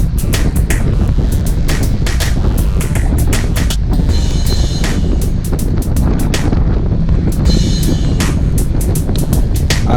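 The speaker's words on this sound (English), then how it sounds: "and you can hear the wind. It's coming from the west." Strong wind roars steadily across the microphone of a cyclist riding in a group, with a westerly wind buffeting loudly throughout and sharp clicks and rattles breaking through the gusts.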